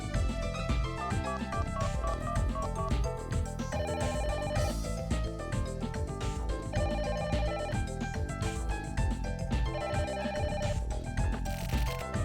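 Telephone ringing in the video game The Silver Case, a repeating electronic ring pattern recurring at regular intervals, layered over continuous busy game music, with no talking.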